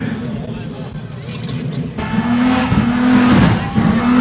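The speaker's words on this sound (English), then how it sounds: "Hey, that shit got a V8." A V8 car engine revs loudly and close by, its roar rising and swelling toward the end, with people talking over it.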